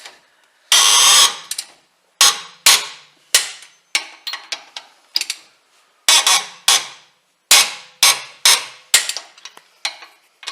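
Sharp repeated clicks and knocks from tightening wheel nuts and a wheel spacer on a Nissan Navara NP300, with a torque wrench working through the nuts, arriving in irregular loud bursts close by with short gaps between, no talk.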